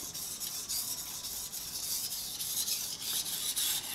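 A Shun Premier chef's knife is drawn across a 6000 grit polishing stone in repeated, even strokes, giving a soft, close, rhythmic wet rasping swish with no voices.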